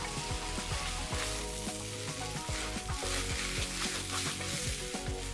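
Rice and red sauce fry in a hot pan for fried rice, giving a steady, close, loud sizzle with repeated scraping stirs throughout and no talking.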